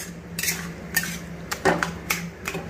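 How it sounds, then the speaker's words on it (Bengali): Potato mixed into spinach curry in a pan, a few separate scraping and clinking strokes of a spoon against the pan, close and moderately quiet. "তার আগে আমি আলুটাকে ভালো করে মিশিয়ে দেবো এর মধ্যে"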